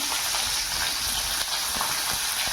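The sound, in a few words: chopped onion and capsicum frying in a wok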